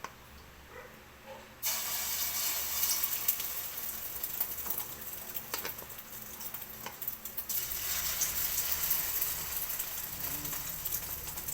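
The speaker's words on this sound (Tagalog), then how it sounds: "Ayan ang ating iprito na natin ito" Tortang okra, an okra omelette, sizzles in a frying pan as the mixture hits hot oil. A steady, close crackling hiss carries on for about ten seconds after a quieter start.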